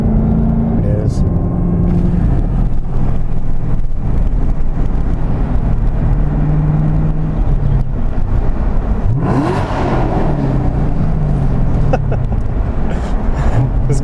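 Chevrolet Camaro ZL1 1LE, a 2018 manual V8, revving and accelerating loudly as it passes under a bridge, with a rising engine roar and heavy wind rumble from inside the car.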